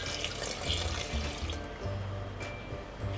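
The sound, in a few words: grapefruit juice being poured in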